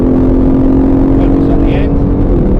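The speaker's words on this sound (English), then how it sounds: "Away we go. Up the gears. And up another gear." An Aston Martin Vantage at Silverstone accelerates hard through the gears, a loud, close, sustained engine drone heard from inside the car with a steady roar throughout.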